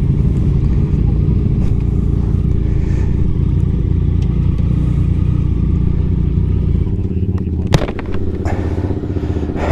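A motorcycle pulls away in first gear up an incline, its engine rumbling loudly and steadily up close, with a brief clatter near the end.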